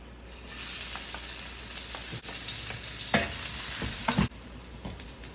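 Garlic sizzles in about two tablespoons of hot oil, a steady bright frying hiss broken by a few sharp stirring scrapes and clicks near the end before the sizzle drops away.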